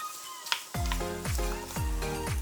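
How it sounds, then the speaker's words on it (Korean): Radish stir-fried in a pan with chili oil and seasoning, a soft sizzle under repeated stirring scrapes and clanks, with a low rhythmic tone running through. "무 넣고 뒤집어주면서 3분 정도 볶아 양념과 골고루 버무리고"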